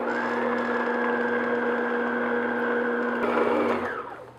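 Electric hand mixer runs at a steady whir while folding chopped walnuts into batter for a coffee walnut cake, loud and continuous, then slows and fades at the end.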